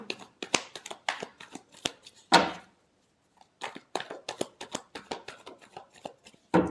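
Tarot cards being shuffled by hand, a series of quick crisp riffling snaps and soft slaps, close and fairly quiet, with a brief pause midway before the shuffling resumes.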